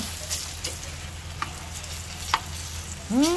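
Tuyo, dried fish, fries in a pan with a steady low sizzle, a few soft utensil clinks, and a brief scrape near the end as the fish is lifted out.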